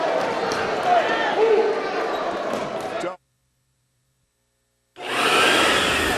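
A vacuum cleaner drones loudly in a radio advertisement, steady and close for about three seconds, cutting to complete silence, then starting up again.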